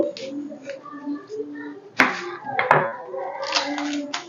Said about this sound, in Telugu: ముందుగా మనం ఉల్లిపాయని కట్ చేసుకోవాలండి